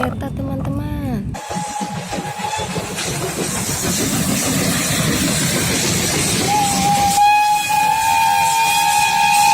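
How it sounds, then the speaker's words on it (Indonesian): A toy train whistle gives sustained steady tones, starting alone, then running under a continuous noisy hiss that fills most of the stretch, with a high whistle returning near the end. "Wow, lihat di sini ada kereta teman-teman."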